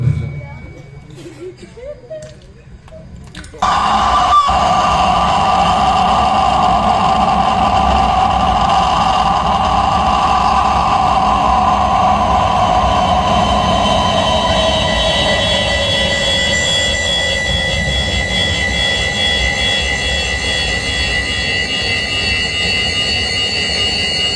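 A voice mimics a jet taking off, a sustained rising whoosh and roar that builds, then holds steady for a long stretch after a brief quiet start.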